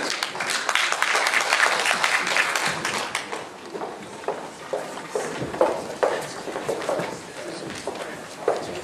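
Dense applause from a conference audience in Taiwan welcoming general manager Hong Qingliang to the stage, loud and steady for about three seconds, then thinning into scattered claps and light knocks.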